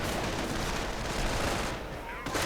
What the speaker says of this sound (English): lots of heavy automatic fire versus 1 Volksgunners who are already with low health